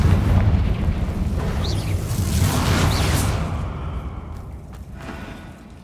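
A fiery Confringo spell explodes in Hogwarts Legacy with a loud, rumbling burst and whooshing blast that carries on for several seconds before slowly fading.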